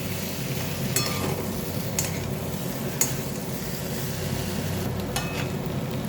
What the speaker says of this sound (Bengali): একটু মিশিয়ে নিই মশলাটার সাথে।